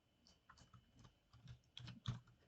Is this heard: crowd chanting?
no